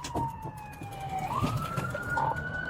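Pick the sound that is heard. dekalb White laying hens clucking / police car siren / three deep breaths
police car siren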